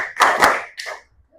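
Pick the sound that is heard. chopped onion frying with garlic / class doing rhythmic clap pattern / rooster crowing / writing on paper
class doing rhythmic clap pattern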